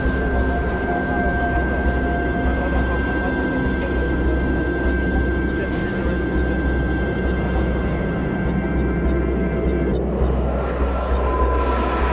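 A MiG-29M OVT thrust-vectoring jet flies an air display, its engine producing a continuous loud broadband roar with steady low rumble and a sustained whine that holds for the whole stretch.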